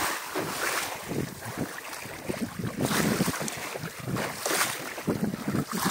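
Wind gusts buffet the microphone while ocean water splashes and rushes around a small sailing dinghy out at sea, a loud, continuous wash that swells and eases without any voices.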